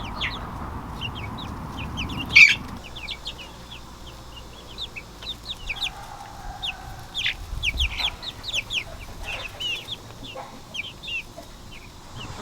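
Young roosters clucking in a backyard flock, many short bright clucks and chirps scattered near and far over a low rumble, with one louder squawk early on.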